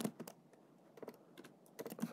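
Typing on a computer keyboard: quiet, close clusters of quick key taps in uneven bursts with short pauses between them.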